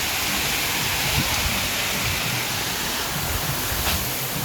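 Namaste waterfall in Jhapa, Nepal, pours as a steady, dense broadband rush of falling water, constant and fairly loud with no breaks.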